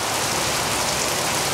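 Heavy rain mixed with hailstones pours down in a dense, loud, continuous hiss, close and unbroken throughout, with no voices.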